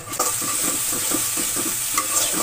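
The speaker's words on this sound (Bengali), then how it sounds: "এখন এই বাটা মশলাটা তেলের উপর দিয়ে দিব" Hand-ground spice paste being stir-fried in oil for a rohu fish curry: a steady oily sizzle runs throughout, broken by repeated rhythmic scraping strokes of a spatula in the pan, close and fairly loud.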